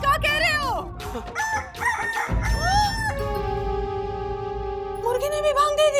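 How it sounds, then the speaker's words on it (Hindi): A rooster crows in a long, loud, drawn-out cock-a-doodle-doo near the middle, with other brief vocal sounds before and after it in a Hindi TV comedy scene. "मुर्गी ने भी भांग दे दी।"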